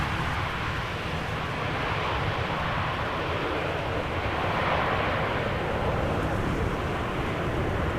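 A crosswind arrival of an airliner at Amsterdam Schiphol Airport: a steady, broad jet roar with rushing wind noise that holds at a constant level throughout, with no talk.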